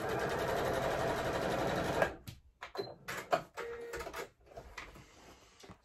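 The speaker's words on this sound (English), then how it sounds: "I'm just going to stitch those straps and ears in place." A domestic sewing machine stitches fabric straps and ears onto a child's bunny bag, running in a fast steady buzz for two seconds, then stopping and starting in short bursts with clicks and rattles.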